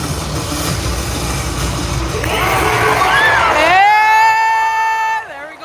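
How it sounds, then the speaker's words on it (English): A large arena crowd at the FNCS Grand Finals roars and whoops through a player entrance, a dense, loud wall of cheering that swells and then cuts to a sustained high tonal blare near the end. "The whole crowd is going crazy."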